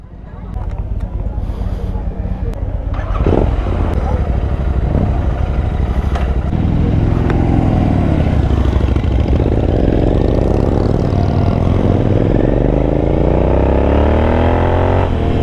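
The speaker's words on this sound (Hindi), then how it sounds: "लाइफ में फर्स्ट टाइम GT 650 चला रहा हूँ" A Royal Enfield GT 650 Continental motorcycle rumbles steadily while being ridden, its engine note rising and falling through the gears, with a rider talking loudly over it throughout.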